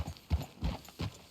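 Horse hooves clip-clop in Red Dead Redemption 2, three clear evenly spaced hoof strikes at a walking pace, close and alone with no talk.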